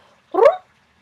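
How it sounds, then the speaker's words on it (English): A single short, loud animal call, a rising throaty trill that blends a purr and a meow, heard alone and close. "one of the cats made a loud noise, sort of a cross between a purr and a meow"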